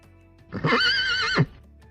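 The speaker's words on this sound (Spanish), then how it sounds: "El caballo." A horse lets out a single close, loud whinny of under a second, its quavering pitch holding steady before breaking off abruptly.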